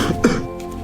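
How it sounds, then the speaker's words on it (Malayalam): A single short throat-clearing cough, close and fairly loud, from someone complaining of a bad cough and cold at a doctor's visit. "ഭയങ്കര ചുമയും ജലദോഷമാണ്"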